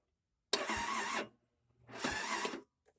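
A 50cc scooter's electric starter cranking on a weak, undercharged battery: two strained whirring bursts, each under a second long, separated by a short pause, loud and close with no talking.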